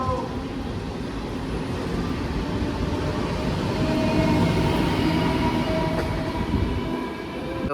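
The 86122 Purulia–Howrah local train, a slow-running colorful passenger service, rumbles and rattles steadily from onboard, a loud continuous roar with faint squeals.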